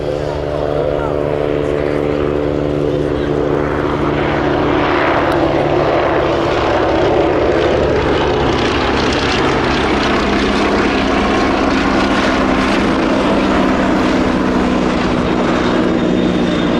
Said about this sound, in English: Swordfish took to the air for the first time.